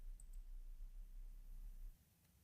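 Two quick, faint mouse clicks close together near the start, alone in a quiet room with a low background hum.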